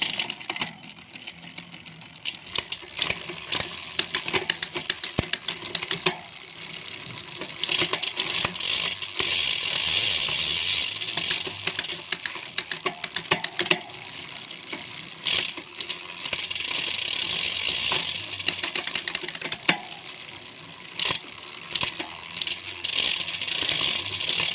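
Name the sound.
ratchet clicking of Sensah MX9 fishing reel being adjusted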